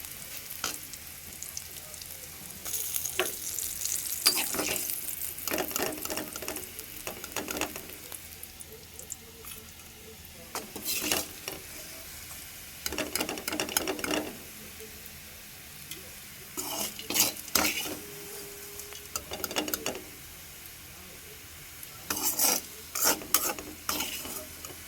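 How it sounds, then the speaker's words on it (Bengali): Bitter gourd (karela) frying in a pan, with repeated bursts of spatula scraping and stirring over a steady oil sizzle, the stirring coming in irregular clusters with quieter frying between them. "বন্ধুরা, করলা আমার ভাজা হয়ে গেছে"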